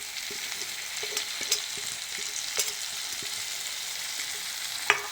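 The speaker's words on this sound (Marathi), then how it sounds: "आता हे सगळं छान मिक्स करून घेऊया आणि जी आपण फुलं घेतलेली आहेत हदग्याची ती आता टाकूया." Hadga flowers frying with spices in a pan while being stirred, a soft continuous sizzle broken by light scraping clicks of the spoon, steady and moderately quiet with no talking.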